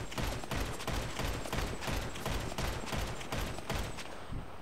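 Continuous rapid gunfire crackles throughout GTA Online, dense overlapping bursts with a steady loudness and the compressed, synthetic quality of game audio.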